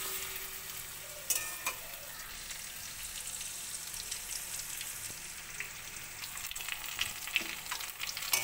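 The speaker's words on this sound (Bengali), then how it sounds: "পেঁয়াজটা আলুটা একসঙ্গেই ভাজি হয়ে যাচ্ছে।" Onion and potato frying together in a pan make a steady, crackling sizzle throughout, with occasional clinks and scrapes of stirring, close by and without voices.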